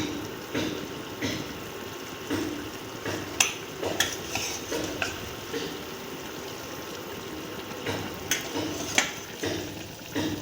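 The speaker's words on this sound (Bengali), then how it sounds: "এবার আমি এই ভাজে রাখা ক্যাপসিকাম আর টমাটোর এগুলো দিয়ে দেবো ভালোভাবে" Fried capsicum and tomato are stirred into boiling gravy. A soft bubbling simmer runs underneath, and irregular spoon strokes and clinks against the pot sound close by.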